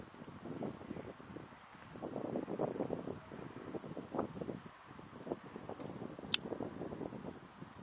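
Wind blowing outdoors during a Peterson Connemara pipe tasting, a soft, steady rushing rumble with gentle gusts swelling and easing, fairly quiet, with no voices.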